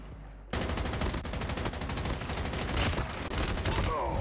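Rapid automatic gunfire from the Call of Duty Mobile video game, with a dense, sustained burst of shots running continuously and loudly after a brief quiet start.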